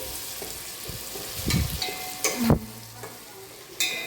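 Onions, tomatoes and green chillies fry in hot tempering for uggani, a light sizzle broken by a few clanking stirs of a spoon against the pan.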